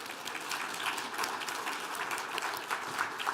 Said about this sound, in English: we all deserve a round of applause